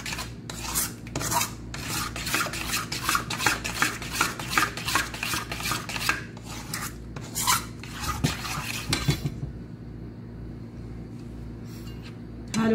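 A mango ice cream mixture with cheese is stirred by hand with a utensil in a bowl, giving a fast run of close, rhythmic scraping strokes that stop partway through.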